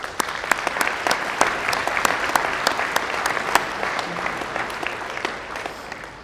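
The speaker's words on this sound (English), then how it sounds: "You all deserve a round of applause." Audience applause at a Breakfast of Champions 2023 event, clear individual claps standing out from a steady patter of a room-sized crowd, moderately loud and continuous with no talking.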